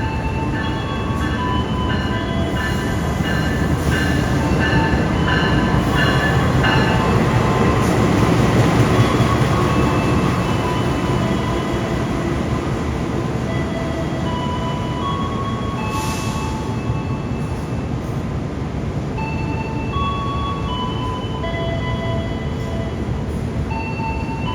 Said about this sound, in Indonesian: datang dari arah timur itu adalah kereta Mutiara Selatan